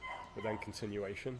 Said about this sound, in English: Sorry about the dogs you can hear.